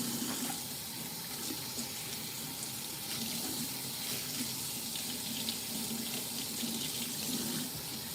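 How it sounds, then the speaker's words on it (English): Kitchen tap running steadily over a pan being rinsed out in a sink, a continuous broad splashing rush of water that stays at an even, close level throughout with no talking. "I gotta rinse out this pan."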